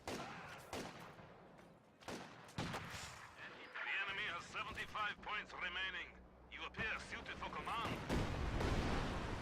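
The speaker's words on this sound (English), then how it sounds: "You got another Katusha Barrage coming on in, gets a squad wipe." In the real-time strategy game Company of Heroes 2, a Katyusha rocket barrage lands as a string of sharp explosive booms and rumbling impacts, mixed with other battle noise beneath a commentator's steady talk.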